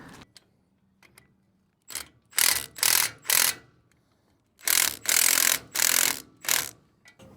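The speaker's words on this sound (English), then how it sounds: "We don't want to tighten the axle nut too far or it'll jam the wheel." A ratchet tightens the axle nut on a boat trailer wheel in two bursts of loud, close, rhythmic clicking strokes separated by a short pause.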